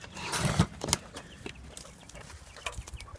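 Two male quails fighting in a backyard pen, giving a few sharp squawks and scuffling bursts early on over a busy, noisy outdoor background.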